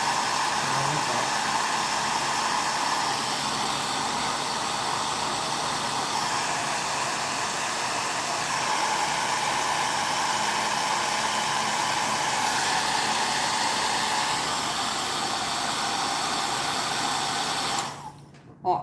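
Hair dryer drying a stenciled craft box, blowing as a steady, loud, close hiss for about seventeen seconds before cutting off abruptly.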